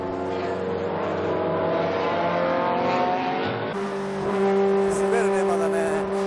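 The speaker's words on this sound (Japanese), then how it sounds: "まずはゆっくりとコースイン。 タイヤを温めて徐々にペースを上げていく。" A car pulls onto a race track at low speed and then accelerates to warm its tyres, the engine note climbing steadily before a shift to a higher, stronger drone, with a voice faintly present.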